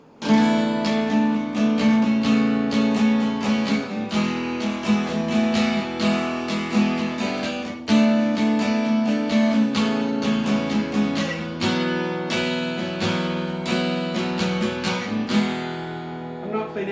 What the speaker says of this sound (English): What's changed is the sound of the pick striking the strings.